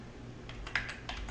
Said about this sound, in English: I'm just going to type it in myself.